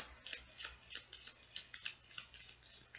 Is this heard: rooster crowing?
no